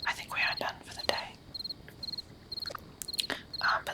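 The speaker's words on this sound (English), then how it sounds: "let's just look at the fires and listen to the crickets" Crickets chirp in short, evenly spaced bursts across a quiet night scene beside fires in the mushroom-hunting game Morels The Hunt, soft and steady while a person whispers over them.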